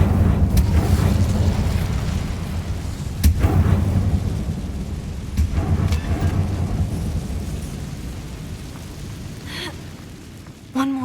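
Hogwarts Legacy's Incendio fire spell goes off as a heavy rumbling whoosh. Sharp bursts and deep booms rise over a continuous low roar, then fade near the end. There is no talking.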